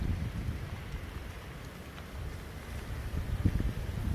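Heavy rain falls during the 2018 Taiwan rains, with floodwater nearby, making a steady, dense hiss and rumble close to the microphone, with wind buffeting throughout and a slight swell near the end.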